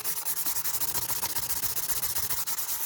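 An opal stone is rubbed with repeated quick, gritty strokes, a steady rhythmic scraping close by with no talking.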